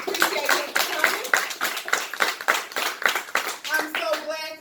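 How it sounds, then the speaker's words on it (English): Audience at a comedy night clapping in a lively, rhythmic round of applause for a comedian, close and loud, with a few voices mixed in. "Let's give a round of applause to Mr."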